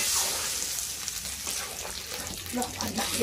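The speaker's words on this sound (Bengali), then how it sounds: "এবার ফোড়নটা মুগ ডালের মধ্যে ঢেলে দিল।" Hot oil spice tempering poured into moong dal, giving a steady hissing sizzle with bubbling and stirring close by, fairly loud throughout.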